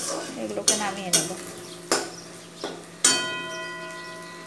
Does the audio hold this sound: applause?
no